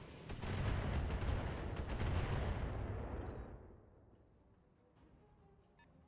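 A Precision Strike missile barrage in the BattleTech video game: a dense, loud rumbling roll of rapid impacts and blasts for about three seconds, fading into a low tail, with a few faint beeps after.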